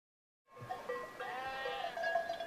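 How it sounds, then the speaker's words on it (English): Goats bleating on grazing land in the hills of Judea, several overlapping wavering calls rising out of silence and carrying on steadily, fairly close and clear with no talk. "In Judea today, sheep and goats are still grazed in the hills."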